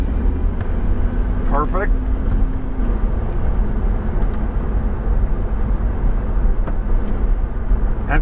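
Lamborghini Huracan on a track, engine note droning steadily and loudly under road and wind rumble, with a short voiced remark from an instructor riding along.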